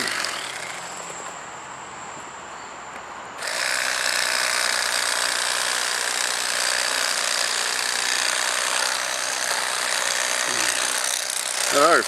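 An electric fillet knife with dulling blades whirring steadily as it cuts through channel catfish ribs, a loud buzzing motor hum that starts abruptly a few seconds in and runs on, close up.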